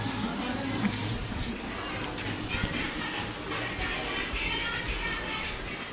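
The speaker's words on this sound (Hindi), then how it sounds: "स्कूटी धो रही है" Water sprays and splashes steadily while a scooter is washed outside a home, a continuous hissing gush that stays loud and even throughout.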